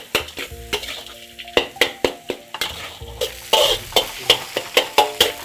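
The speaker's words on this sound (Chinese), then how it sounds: "给它炒进去" A spatula strikes and scrapes a wok in a quick, steady rhythm, stirring in sugar and eight-treasure ingredients over a soft sizzle, close and clear.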